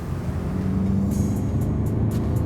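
A 2018 Mercedes-Benz C-class accelerates hard, its engine giving a steady, loud low rumble and boom from inside the cabin, with no voices over it.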